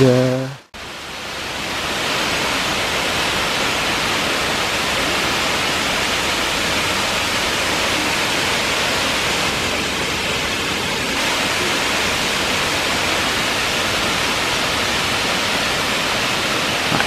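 The Mont-Dore waterfall cascades in a steady, full rushing hiss that holds evenly for the whole span after a brief opening noise.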